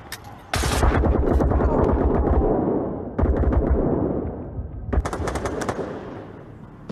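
Bursts of rapid automatic gunfire ring out in the VR shooter Onward, several sustained volleys separated by short pauses, loud and close.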